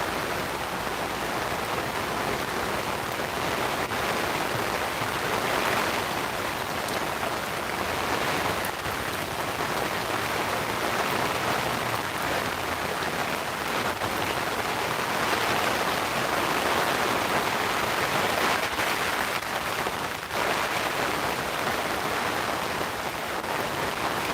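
Steady, dense rain pours down at a railroad trackside overlook during stormy weather, a continuous hiss that fills the whole stretch with no voices.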